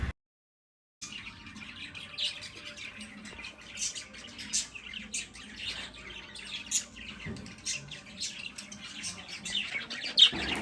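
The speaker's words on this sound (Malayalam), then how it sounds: "ഈ കിളികളുടെ ഒച്ച കേൾക്കാതെ ഒരു വീഡിയോ പോലും നമ്മുടെ ഉണ്ടാവില്ല" After a second of silence, birds chirp and squawk in scattered, overlapping calls, moderately close, continuing throughout without any talking.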